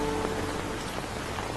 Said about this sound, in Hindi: मुझे पता है बारिश हो रही है